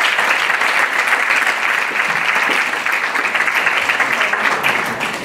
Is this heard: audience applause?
yes